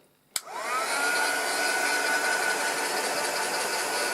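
Craft heat gun switching on with a click and blowing a loud, steady whooshing roar with a faint high whine, used to dry art journal pages, continuous and close.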